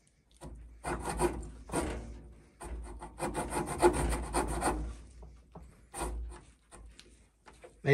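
A Mikov pocket knife saw cutting raw, green wood by hand, with repeated short rasping strokes in an irregular rhythm, close and fairly quiet.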